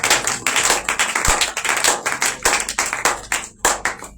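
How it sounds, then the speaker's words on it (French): An audience at a religious prophetic conference claps together in a dense, continuous round of applause, loud and close, with the clapping rising and falling in waves and no talk over it. "Acclamons le Seigneur Jésus-Christ."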